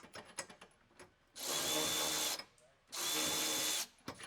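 Power tool driving bolts on a motorcycle transport stand, two steady whirring bursts of about a second each, close and loud, separated by light clatter and handling noise.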